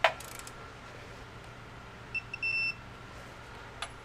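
A digital torque wrench set to 100 foot-pounds beeps as it reaches the target torque on a fastener, a short double beep followed by one sustained tone, close and clear over a quiet background with a faint click at the start.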